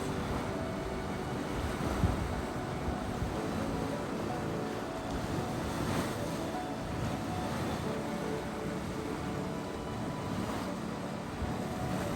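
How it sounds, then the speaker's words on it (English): An active mud pot splashing at Mud Volcano in Yellowstone, a continuous churning, bubbling rush heard up close outdoors, steady and fairly loud with wind noise over the microphone. "We're still behind Mud Volcano and the Dragon's Mouth. Ooh, look at it splashing up right there. This one's pretty active."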